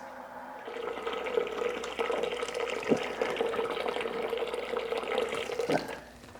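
Water pours steadily into a brewing vessel as sparge water is added during an all-grain Belgian dark strong ale brew day, a continuous close splashing flow of about six seconds that stops near the end.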